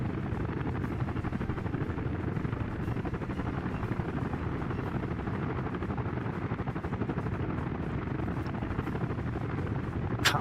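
Helicopters flying in formation in the city-building game Workers and Resources: Soviet Republic, a continuous rumbling rotor drone that stays steady and fairly loud for the whole stretch, with no voices.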